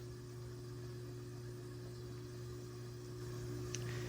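An LG appliance motor ramps up toward 1,000 RPM, a steady low hum with a constant drone and faint higher whine, rising slightly in level near the end with a small click.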